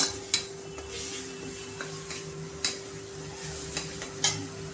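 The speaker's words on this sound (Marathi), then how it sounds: "तर आता आपण हे मसाले छान असे परतून घ्यायचे आहेत" Spices being stir-fried in a pan for a masala bhindi dish, a low sizzle beneath repeated sharp clinks and scrapes of a spoon against the metal pan, with a steady hum underneath.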